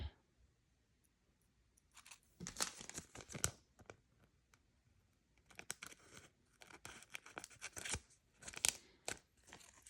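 Close, crisp snipping and clicking of scissors in bursts, with rustling and crinkling between cuts over a quiet background.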